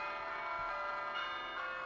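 An iPhone's Bell Tower text tone plays as a preview, a steady ringing chime of layered bell tones that sounds clearly on its own for about two seconds.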